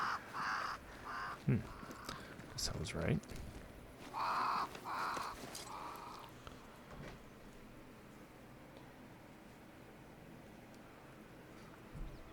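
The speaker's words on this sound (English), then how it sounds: "There's a lot of crows over here." Several crows caw in harsh, repeated bursts in the first seven seconds of the video game Banishers: Ghosts of New Eden, gathered near a great tree, followed by quiet ambience with a brief voice.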